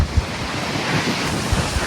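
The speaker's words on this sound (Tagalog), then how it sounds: "Ang lakas na hangin." Strong wind roars steadily across the microphone, a dense rushing noise with low buffeting thumps, like gusts blowing hard outdoors near open water.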